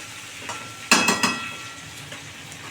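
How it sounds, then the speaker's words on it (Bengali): Potatoes fry in a pan with a soft, steady sizzle, broken by a louder burst of crackling and scraping as they are stirred, then settling back to a quiet hiss. "বন্ধুরা দেখো 2 মিনিট ধরে ভালো করে আলু সুন্দর করে ভেজে নিয়েছি"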